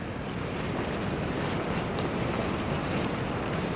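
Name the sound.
wind blowing a tarp and hammock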